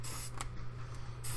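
Spray paint hisses onto a mask over an art journal page in short close bursts, rising and falling across a second and a half with no talk.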